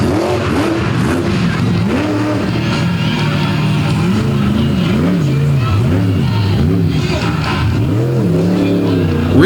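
A truck engine refires and revs hard at a nighttime truck pull event in Benson, North Carolina, a loud rising and falling roar that surges repeatedly, with crowd and announcer voices underneath.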